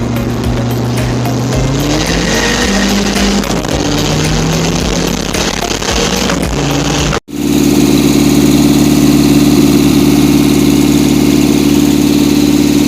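A Hyundai Genesis Coupe engine fitted with an HX35 turbo runs loud and close, rough and uneven at first, then cuts to a steadier, droning run.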